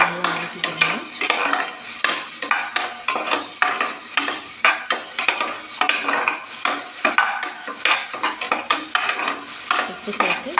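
Ingredients for country chicken curry are sautéed with salt in a pan, with brisk, regular spatula scrapes and stirs repeating in a steady rhythm over a continuous sizzle, close and clear.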